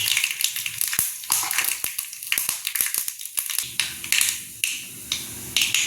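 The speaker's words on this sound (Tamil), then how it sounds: "சட்டி இதை எண்ணெய் காஞ்சிட்டு இந்த கடுகு போட்டுக்குவோம்" Mustard seeds crackle and pop in hot oil in a pan, the first step of a dried-fish karuvaadu sammanthy; dense, sharp spits run throughout, with a steadier sizzle building toward the end.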